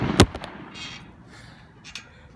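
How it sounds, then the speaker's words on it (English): A sharp, loud bang followed by a few smaller crackling pops, then quieter distant bursts fading over a couple of seconds. "These fireworks are super loud."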